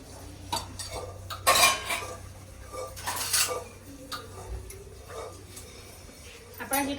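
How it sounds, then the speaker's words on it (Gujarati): Metal utensils and dishes clatter and clink in bursts, with a low hum underneath and a faint voice in the background. "વાસણ કરે છે અને એક વાસણ લૂસે છે"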